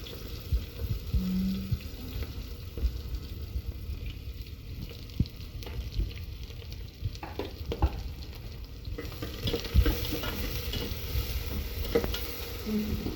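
Steady sizzling of onions frying in a pan, with occasional stirring scrapes and clinks, fairly close and continuous.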